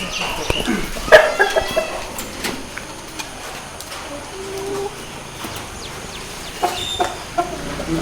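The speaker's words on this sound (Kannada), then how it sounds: "ಸಂತೋಷ್ ಅವರೇ, ನಿಮ್ಮ ಜೊತೆ ಈಗ ಯಾವ ಯಾವ ರೀತಿಯ ಕೋಳಿಗಳಿವೆ ಮತ್ತು ಅದರ ರೇಟ್ ಎಷ್ಟು" Aseel fighting chickens on a farm cluck in short, scattered bursts at close range, with a few sharper calls standing out over quiet background and occasional speech.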